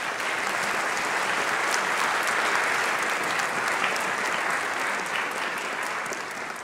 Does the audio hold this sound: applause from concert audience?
yes